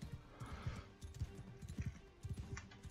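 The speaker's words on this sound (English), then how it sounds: "I'm doing this on a horse." Horse hooves clip-clopping at a steady galloping rhythm in the Mount and Blade II: Bannerlord video game, fairly quiet with battle ambience behind.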